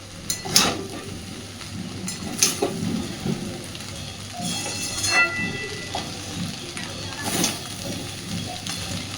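Leftover rice being stir-fried in a pan: a soft, rain-like sizzle broken by irregular sharp scrapes and clatters of stirring, moderately close, with no voices.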